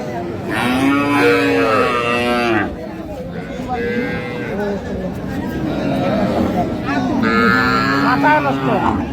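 Cattle moo loudly and repeatedly, with several long, drawn-out calls, at a livestock market, while people talk and chatter close by underneath.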